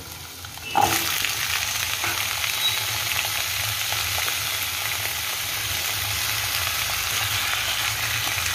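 Potatoes dropped into hot oil in a pan, low flame, burst into a sudden sizzle, then settle into a steady, loud frying hiss that carries on alone.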